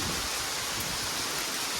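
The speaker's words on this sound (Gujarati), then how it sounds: "અને આ પવન છે, ફૂલ વરસાદ છે." Steady, dense rain from a cyclone pours down with a broad rushing hiss, wind mixed into the constant wash of noise, loud and unbroken throughout, at Gayatri Ashram temple in Gadhethad.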